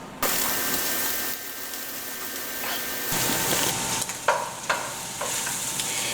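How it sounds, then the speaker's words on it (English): Onions for French onion soup sizzle in a pot while being stirred, a steady bright hiss with a few sharp scraping clatters from the spoon, near and moderately loud. "I'm just going to keep stirring this around, babysitting my onions"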